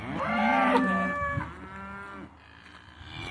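Belted Galloway cattle on a farm moo in a long, loud, drawn-out call that rises and then fades, followed by a fainter lowing, with no talk.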